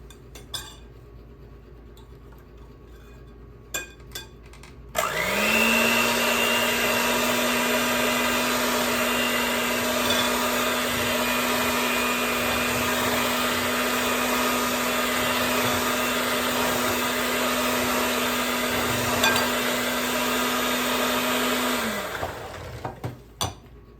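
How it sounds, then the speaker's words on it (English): An electric blender whirs steadily for about seventeen seconds while mixing coconut pie filling in a home kitchen, loud and close, with a few clinks before it starts and a winding-down tail near the end. "The blender conking out on us."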